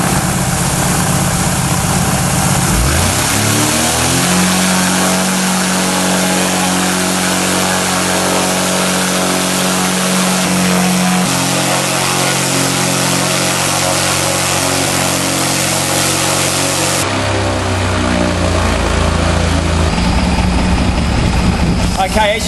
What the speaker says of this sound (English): I can run this engine at full power for as long as I want